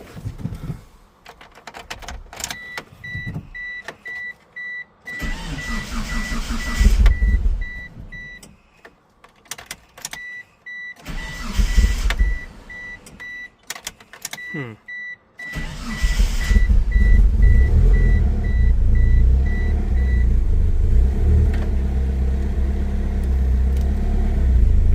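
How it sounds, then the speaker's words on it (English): A 2G Mitsubishi Eclipse GSX turbo engine is started for the first time after a timing belt and fuel pump replacement. Intermittent starter and cranking bursts with chimes are followed by the engine catching and settling into a steady, close idle. "First startup after the timing belt job and the fuel pump replacement. Let's see if she is going to start."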